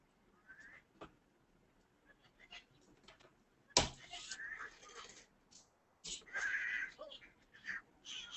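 Angry Birds mobile game sound effects with bird squawks and caws, sharp impact bursts and a crunching hit, played loud through a phone speaker among short cartoonish chirps.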